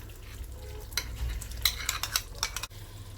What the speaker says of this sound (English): I'm going to stir that in.